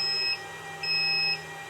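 Lithium battery powering a van air conditioner emitting low-voltage warning beeps, two steady high electronic tones, the first short and the second longer, over a faint background hum, no talk.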